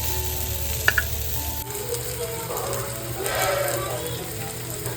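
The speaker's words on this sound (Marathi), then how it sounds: "तर इकडे आपले दोन्ही पापलेट भरीत ना मस्त शेकलेले आहेत" Two stuffed pomfret fish shallow-frying in a little oil, a steady close sizzle with a couple of sharp clicks early on and a slight swell in the frying noise toward the end.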